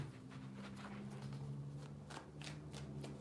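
Tarot cards are shuffled by hand in a quiet room, producing soft, rapid riffling bursts repeated several times close to the listener, over a low steady hum.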